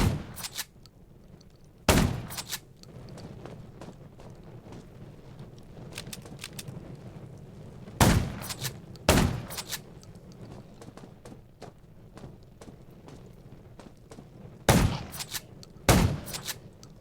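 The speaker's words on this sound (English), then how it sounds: "Gunshots will attract more." Several sharp, loud gunshots from a zombie video game ring out in spaced pairs over a steady low rumble, with no speech.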